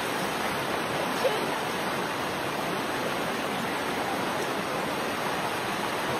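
Water in a creek flows in a steady, even rush of broadband noise, moderately loud and unbroken, with no other distinct sounds above it.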